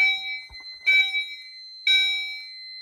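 A rate-of-rise heat detector being tested sets off a fire alarm bell, heard in repeated electronic tones with a bright steady ring and a few short bursts, close and clear, with no talk.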